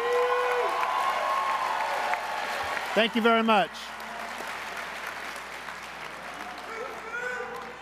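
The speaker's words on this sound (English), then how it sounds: "Let's give them all a round of applause." A convention crowd applauds candidates for resident positions at a general session. Broad clapping and some cheering run steadily underneath, while someone briefly speaks over it partway through.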